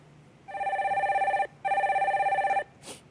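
A telephone rings twice in steady trilling bursts, loud and clear, as the next caller is put through on a Korean stock market phone-in broadcast.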